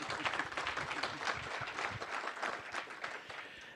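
Conference audience at a DevOps Days event in Washington, DC, clapping in a dense, steady wash of applause that carries on throughout at moderate volume without fading.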